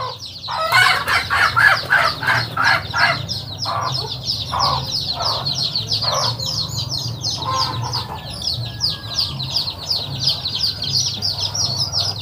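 A mother hen and her chicks on a rural Vietnamese homestead cluck in steady, close bursts, with a rooster-like call and scattered peeps over a low background hum; no one talks.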